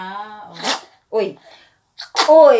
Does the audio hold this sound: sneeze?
yes